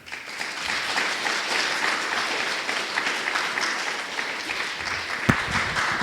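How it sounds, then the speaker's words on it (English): Conference audience applauding after a Python talk, dense sustained clapping from a room full of people that holds steady for several seconds, with one sharp louder clap near the end. "Please applause for him"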